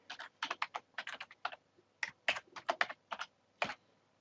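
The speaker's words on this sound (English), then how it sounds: "we can actually now type in here" Fingers type on a computer keyboard in short bursts of crisp, close key clicks with brief pauses between groups, against a quiet background.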